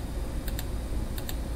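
Two pairs of quick, crisp clicks from a computer mouse, one pair early and one pair later, set close and clear against a steady background hiss.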